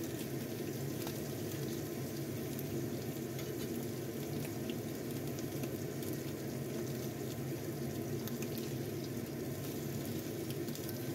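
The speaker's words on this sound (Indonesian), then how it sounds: "kita panaskan minyak, kita goreng ini ikan yang sudah kita cuci bersih" Salted tuna fish fries in hot oil, a steady, even sizzle and crackle that holds at moderate loudness throughout, with no voices.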